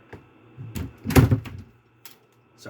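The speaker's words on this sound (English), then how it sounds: "Sorry, I had to shut my door." A creaky bedroom door swings shut with one solid thump and a few lighter knocks and rattles around it, close by in a quiet room.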